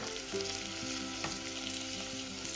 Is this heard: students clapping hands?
no